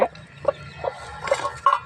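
A hen clucks in short bursts, about five brief calls spaced across a couple of seconds, fairly close and alone with no talking.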